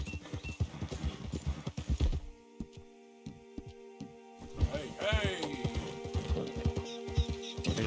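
Horse hooves clip-clop steadily during a ride in the video game Red Dead Redemption 2, with low game music and ambient tones underneath; the hoofbeats drop out briefly midway, then resume at a moderate distance.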